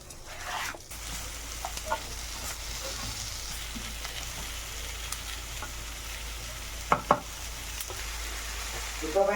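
Onion, garlic, ginger, chilli and tomato frying in a pan for a bhindi masala, a soft, steady sizzle with a few clinks from the spoon against the pan, alone with no voice.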